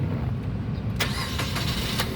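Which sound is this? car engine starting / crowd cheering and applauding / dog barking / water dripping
car engine starting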